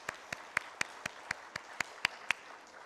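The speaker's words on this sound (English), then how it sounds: "So huge round of applause to all these films." About ten slow, evenly spaced hand claps ring out at the FICCI Frames 2023 inaugural session, crisp and fairly close, with no one speaking over them.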